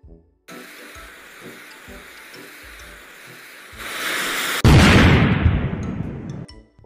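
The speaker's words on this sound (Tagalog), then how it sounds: "narinig kasi namin yung paputok mo kaya pumunta kami dito" An animated firecracker's hissing, fizzing fuse builds steadily, then a loud explosive blast erupts and rumbles before fading away.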